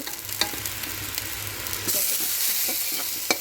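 Bottle gourd greens frying in hot oil with browned garlic, a steady sizzle broken by several sharp stirring scrapes and clatters, close and fairly loud with no talking.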